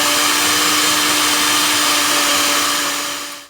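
Electric mixer whipping five eggs with a third cup of avocado oil for keto flaxseed bread, a loud, steady motor whine held alone for a few seconds before it winds down and cuts off.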